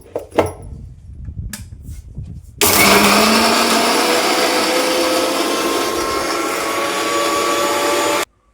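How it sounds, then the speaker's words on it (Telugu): An electric mixer grinder is loaded with tamarind and salt for a spicy chilli mix. After a few soft knocks it starts abruptly and roars loudly and steadily for about six seconds, then cuts off sharply. "ఇప్పుడు వేసి మిక్సీ తిప్పేయడమే."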